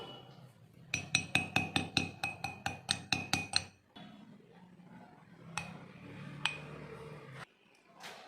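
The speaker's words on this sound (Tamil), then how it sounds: "இப்போ நம்ம இதை பாட்டிலில் ட்ரான்ஸ்ஃபர் பண்ணுறோம்" Homemade fruit mix spooned into a glass bottle: a quick run of about a dozen rhythmic bright clinks against glass, then softer scraping and a few scattered taps, close and clear.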